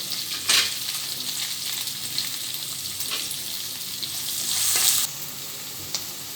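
Chopped onion and dill leaves fry in a pan for Maharashtrian pitla, giving a steady close sizzle with occasional sharper stirring scrapes and clicks against the pan throughout.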